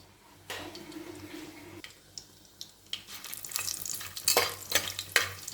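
Spices sizzle and crackle in hot oil in a pressure cooker, frying for chicken biryani, with intermittent stirring scrapes growing louder toward the end; no talking.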